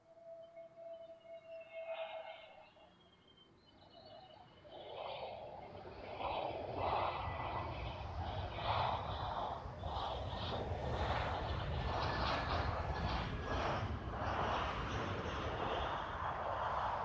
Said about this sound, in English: Next one coming up. I think it was the EasyJet Neo.